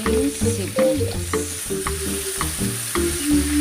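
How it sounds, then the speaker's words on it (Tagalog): Onions fry in a pan with a loud, close sizzle and repeated metallic scrapes and clinks from stirring, about two per second. "Tapos ilagay na po natin yung ating sibuyas."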